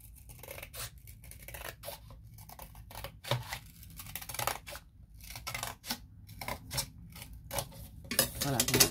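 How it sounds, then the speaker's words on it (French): Scissors cutting through a recycled cardboard box being divided into compartments, a series of irregular crisp snips and crunches up close, growing louder toward the end. "Je vais prendre des ciseaux."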